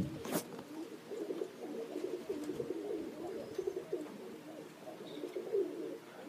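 Roller pigeons flying overhead at a high mountain competition, with soft cooing, wing flutters and faint bird calls, one sharp flap near the start, all at moderate distance with no talk.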